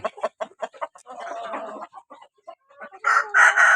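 Roosters and chickens, among them an eight-month-old bird, are heard at a feeding: a run of close, rhythmic clucks, then a drawn-out crow and a loud crow bursting near the end, with no talking.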